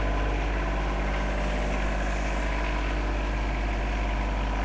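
A Rural King RK25 tractor's engine runs at a steady, loud, close drone with a constant low rumble throughout and no voices.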